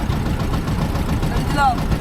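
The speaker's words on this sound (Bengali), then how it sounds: "আমাদের নৌকা কিন্তু ছেড়ে দিছে" A wooden boat's engine chugs in a low, steady rumble as it pulls away on the river at Gabura island, loud and close, with voices talking over it.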